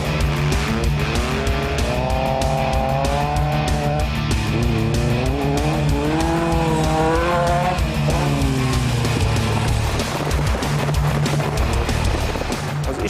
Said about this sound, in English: drift angles like this require sensitive control of the gas and a lot of practice behind the little steering wheel